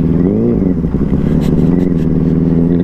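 Heavy engine rumble and revving of trucks passing close on a narrow dusty road, heard from a motorbike, loud and continuous with rising engine tones.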